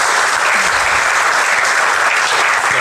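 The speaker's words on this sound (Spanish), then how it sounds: "le pido un aplauso a los dos" An audience applauds two speakers at a panel event, loud dense clapping sustained throughout without any talk over it.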